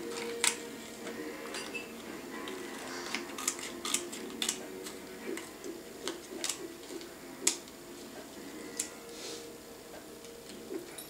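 A child snipping paint sample cards with scissors in a preschool activity, a quiet irregular series of small crisp clicks and cuts spread across the stretch, close and soft.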